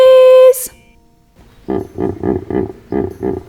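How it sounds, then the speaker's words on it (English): A hippopotamus snorts in a children's animal-book read-aloud: a brief tone, then about six rhythmic, guttural snorting grunts in steady succession, fairly loud and close. "And the hippopotamus is making a snorting sound like"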